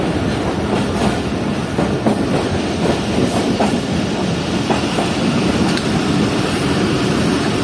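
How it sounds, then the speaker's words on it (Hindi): Shah Latif Express train rolling into Laani Junction, a steady loud rumble of wheels on rails with faint rhythmic clicks throughout and no voices. "तो अब हमारी ट्रेन पहुंच चुकी है लानी जंक्शन"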